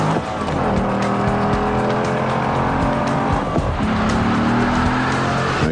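Race cars, Corvettes under test, roar along the north-south straightaway of a test track, with loud sustained engine drone, shifting revs and some tire squeal throughout, no talking.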